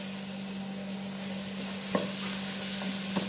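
Finely minced whole garlic frying in a pan for rubyan marag, an Arabic shrimp dish, gives a steady, fairly quiet sizzle, with a couple of light utensil clicks near the end.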